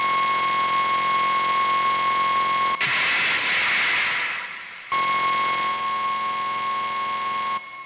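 A harsh, sustained synthesized screech from a Novation Circuit with a steady whine, sent through reverb and delay, cutting off midway into a hissing reverberant tail before the tone returns.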